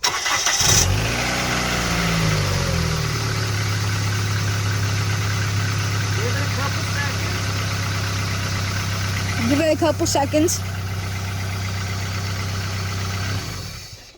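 A car engine cranks, catches and settles into a steady low idle that hums on for over ten seconds, with someone speaking briefly over it.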